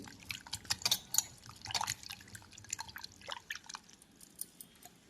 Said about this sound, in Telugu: చింతపండు శుభ్రంగా కడిగేసుకుని ఇలా వాటర్ పోసుకొని